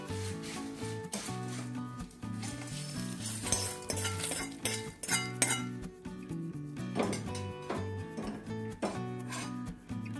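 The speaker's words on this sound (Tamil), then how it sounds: "மிளகா நல்லா சத்தம் வந்துடுத்தேன்" Dry red chillies roasting with salt in a pan for instant rasam powder, rattling and scraping continuously as they are stirred, loud and close with a busy, crackling texture and no talk.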